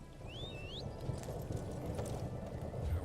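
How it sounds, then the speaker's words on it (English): Horse hooves clip-clop steadily in Elder Scrolls Online, mid-distance, under a bed of game ambience with a couple of bird chirps overhead. "A horse."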